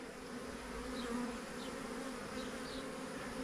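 Honey bee swarm buzzing steadily as the insects pile into a hive box, a dense continuous drone with individual bees whining past close to the microphone.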